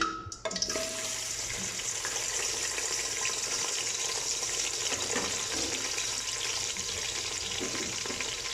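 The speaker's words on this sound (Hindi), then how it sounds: "इसको अच्छे से फ्राई करेंगे जब तक कि लाइट ब्राउन नहीं हो जाते" Two medium chopped onions dropped into a cup of hot cooking oil, an abrupt splash and then a loud, steady frying hiss that fills the rest of the clip close up, with no talking.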